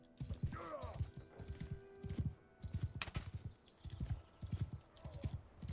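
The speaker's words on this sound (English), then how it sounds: "Let's hop on the horse." Horse hooves in the video game Mount and Blade II: Bannerlord clop in a steady galloping rhythm, with brief whinnies near the start and end and faint background game sounds.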